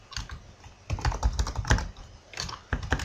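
Keys clatter on a Belgian computer keyboard in quick, uneven bursts with short pauses, close and fairly quiet, with no talking.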